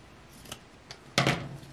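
Scissors cut craft material in a few quiet, brief snips, followed by one louder, crisper cut near the end.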